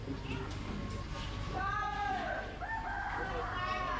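A rooster crows faintly in the distance at a chicken stall in a large market, amid a busy background hum and chatter, its drawn-out call rising and falling.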